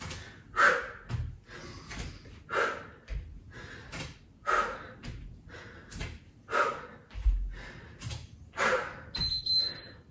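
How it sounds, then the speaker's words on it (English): Forceful, noisy exhales through the mouth repeat in a regular rhythm during a yoga HIIT leg workout, about ten close breaths alone with short gaps between them, and a faint electronic beep near the end. "Nice noisy exhales. In through the nose, out through the mouth."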